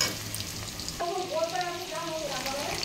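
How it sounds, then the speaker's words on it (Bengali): Young potatoes salted and tossed into a pan with onions and bay leaf fry with a steady close sizzle and crackle, joined by a faint tonal whine partway through. "তো দেখো আলু কচিটাও দিয়ে দিয়েছি, নুন দিয়ে দিয়েছি, একটু ভাজা ভাজা হবে।"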